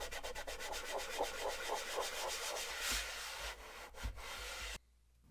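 A cloth wipes Goo Gone across the black matte plastic shell of a PS4 Pro, a quiet rhythmic rubbing of quick repeated strokes, close and faint, ending abruptly in silence.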